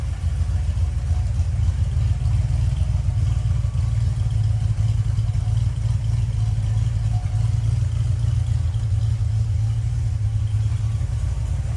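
A 1967 Pontiac GTO with a 400 engine and four-speed rumbles steadily as it drives, a continuous low, even engine drone with no voices over it.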